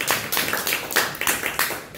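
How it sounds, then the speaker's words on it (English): Audience applause at a San Juan crypto meetup: a small group claps in several distinct bursts, close and fairly loud, with no talking over it. "So give yourselves a round of applause, man"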